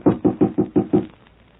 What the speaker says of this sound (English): Shall I knock?